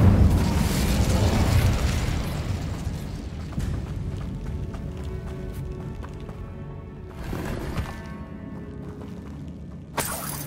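An Incendio fire spell blasts in Hogwarts Legacy: a loud, roaring burst of flame that slowly fades into a lingering rumble, with smaller crackling pops and a sharp hit near the end.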